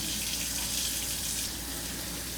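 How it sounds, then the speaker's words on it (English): Cold tap water runs steadily over boiled instant Shin ramen noodles in a sink, a continuous close hiss and splash with no pauses and no voices. "And then we're gonna run some cold water."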